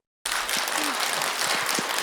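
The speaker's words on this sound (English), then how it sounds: "Let us once again give a warm round of applause to thank Khenpo" Warm round of applause from a university lecture audience thanking a Buddhist Khenpo, dense many-handed clapping starting abruptly and holding steady, with faint voices underneath.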